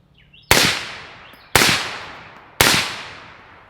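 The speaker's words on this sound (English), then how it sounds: "Let me shoot into the berm right here." Three sharp, loud rifle shots fired into a dirt berm through a Liberty Precision Machine Torch suppressor, evenly spaced about a second apart, each a crisp crack with a short decaying tail.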